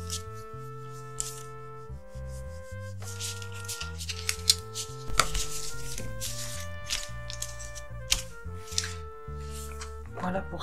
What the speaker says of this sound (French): on va venir bien marquer nos plis